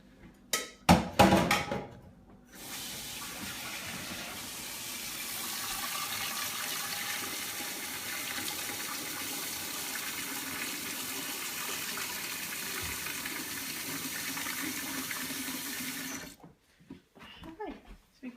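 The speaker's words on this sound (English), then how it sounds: "Just gonna put some water in this." Tap water pours steadily into a sticky food container for about fourteen seconds, a close, even rushing hiss after a few clattering knocks, then cuts off into a couple of faint handling clicks.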